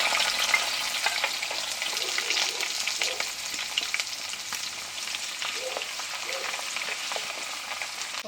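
Ginger and garlic fry in a pan for a Kuttanad-style fish curry, a close, bright crackling sizzle running steadily throughout with occasional sharper pops and no voices.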